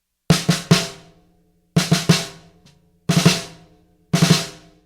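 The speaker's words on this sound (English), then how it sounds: "Now, measure 2 has a downbeat on the snare drum on beat 1," Four bursts of rapid snare drum strokes in 16th-note triplet groupings, played right-right-left in a rock-style ending solo, each quick cluster of sharp cracks ringing briefly before a pause, loud and close with no talking.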